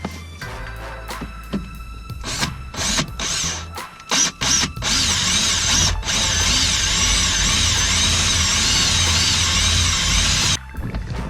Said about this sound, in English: These are all steel rivets, so they're not exactly the easiest to drill out